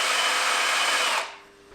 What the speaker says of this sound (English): it's actually really scary to drill in the frame